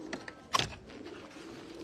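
A pigeon coos at a breeder's loft, a short soft call with one louder burst near the middle, fairly close, over quiet background noise.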